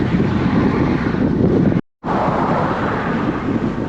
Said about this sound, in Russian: На открытом пространстве ветер очень сильный.